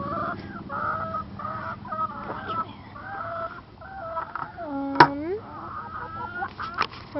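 Chickens outside on a farm in springtime cluck and chatter in short repeated calls, close by, with one louder squawk midway and soft background rumble.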